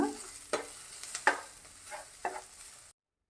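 Onions frying in a pan for onion chutney sizzle softly as a spoon scrapes and stirs them in several distinct strokes, fairly quiet and close, ending abruptly.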